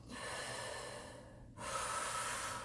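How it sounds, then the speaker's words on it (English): A deep breath is drawn in through a big straw, a soft airy rush that fades, then swells again with a second, stronger airy pull, close and quiet, with no talking. "you're gonna take a deep breath in"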